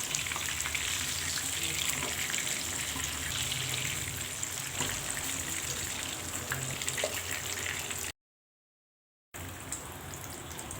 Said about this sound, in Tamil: இப்போ மீதி இருக்கிறதையும் போட்டு இது மாதிரி பொரித்து எடுத்துக்கலாம்.